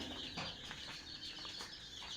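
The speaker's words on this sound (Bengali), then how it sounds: "প্লাস এখানে কিছু রেডি মুরগি আছে।" Chickens cluck softly in a small, close group beside a homemade egg incubator, a few scattered short calls and a little rustling over quiet background noise.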